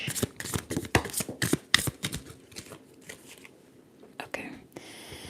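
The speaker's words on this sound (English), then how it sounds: "Okay, so let's shuffle and get one for each." Tarot cards being shuffled by hand up close, a run of crisp riffling and flicking bursts in the first half, then a few sparser card snaps and a soft rustle toward the end.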